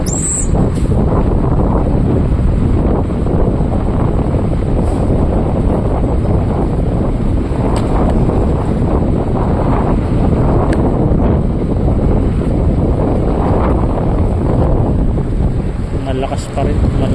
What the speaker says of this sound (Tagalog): Malakas pa rin, malakas ang hangin.